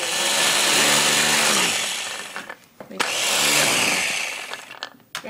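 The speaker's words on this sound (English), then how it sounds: "Fresh basil is in our food processor." A food processor chops fresh basil in two loud, whirring bursts with a brief pause between, close up and with no talking over it.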